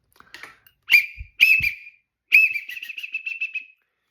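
A duck whistle imitates a widgeon call: three sharp whistled notes, the last drawn out into a rapid trilling warble that fades, played close and clear with no talking.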